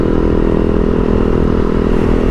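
A 2011 Husaberg FS570 motorcycle being ridden, its single engine giving a steady, loud, unbroken drone that holds level throughout, with no talk.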